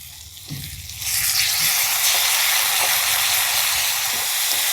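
Tomato tipped into cabbage curry frying in a hot pan sets off a sudden loud, close sizzle after a quieter moment, and the sizzle holds steady without any voices.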